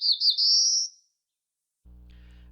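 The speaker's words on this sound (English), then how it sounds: "Black-throated Blue Warbler is sometimes confused for cerulean, but notice a similar quality to the whole song and an ending buzz that rises in pitch." A Black-throated Blue Warbler sings one short, clear song that rises into a buzzy ending, up close and alone. A faint low hum follows after a brief silence.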